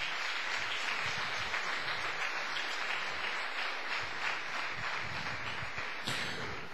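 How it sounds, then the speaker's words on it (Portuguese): A church congregation applauds in a sustained, dense burst of clapping that stays loud and steady for several seconds, with no talking over it. "Uma salva de palmas para o Senhor."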